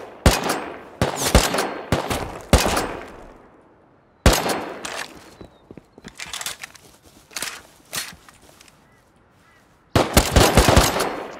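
Gunfire in a multiplayer shooter game: loud bursts of rapid automatic fire broken by brief pauses, with quieter scattered shots and faint footstep-like clatter in the lulls, no voices.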